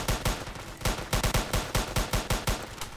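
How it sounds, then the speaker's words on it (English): A grenade launcher fires in the Roblox Polyguns shooter game, a loud, rapid series of sharp blasts in quick succession, about a dozen evenly spaced shots. "There's a guy up top firing the grenades"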